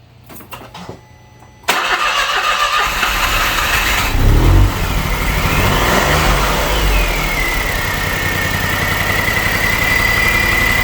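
A 2009 Smart car engine being installed cranks with a stuck starter, then catches and roars loudly, revs up and settles into a steady rough running drone, close by with no talk.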